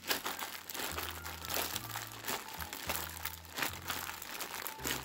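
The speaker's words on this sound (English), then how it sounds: "I just have a little plastic bag here, you guys." Small plastic bag crinkling and crunching repeatedly up close while seasoned vegetables are mixed in a home kitchen, with steady low background hum.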